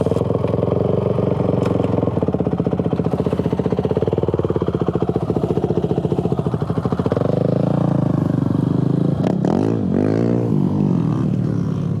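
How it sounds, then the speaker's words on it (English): Motorbikes climbing a muddy trail give off a loud, steady engine drone with a rapid chugging beat, close by and alone, before a rising whine near the end. "guys coming up on bikes here"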